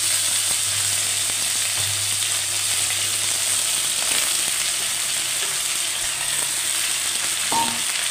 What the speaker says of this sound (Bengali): দিয়ে দুটোকেই ভালো করে ভাজা ভাজা করে নেব।